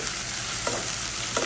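Crushed ginger and garlic sizzle and crackle steadily in hot oil for a chicken roast, while a utensil stirs with two brief scraping strokes over the constant frying hiss.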